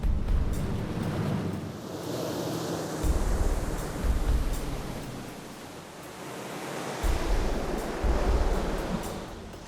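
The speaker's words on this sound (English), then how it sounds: "And we're going to have the water come over the kayak and see just how much water goes into the plug." Water surges and washes over a sealed kayak in loud, rushing swells that rise and fall every few seconds, with steady broadband splashing noise between them. No one speaks.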